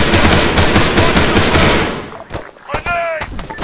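Sustained machine gun fire in the Arma 3 video game, loud and rapid at first, then breaking into scattered separate shots. A voice calls out over the gunfire near the end.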